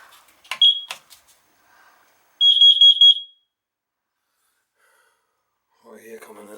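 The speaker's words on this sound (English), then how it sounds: "I put a carbon monoxide detector right here for you guys." Carbon monoxide detector beside a newly installed 40-gallon gas water heater gives a loud, piercing electronic alarm in a quick burst of beeps, heard up close between short breaths and a brief voice.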